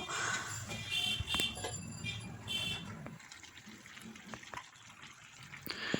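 A small amount of water is poured into simmering village-style country chicken curry, a soft gushing splash for a few seconds that fades into quiet bubbling with faint clinks.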